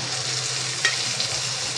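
Chopped tomato sautés with onion in a pan, giving a close, continuous sizzle and crackle with a soft stirring scrape midway, and no voices.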